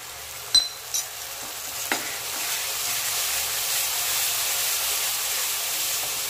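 Salt and turmeric in a hot pan for an okra and prawn curry. After a few sharp clicks, a little water goes in, and a steady, close hiss of sizzling builds and holds with no voices.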